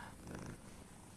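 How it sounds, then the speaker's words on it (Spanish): A cat purrs close up in a steady, continuous rumble that fills the short moment on its own, with no talking over it. "Menos mal que tienes al gato."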